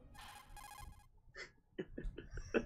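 A ringing phone in the Metal Gear Solid video game, with two bursts of a bright electronic trill up front, then short voiced game sounds and chirps following.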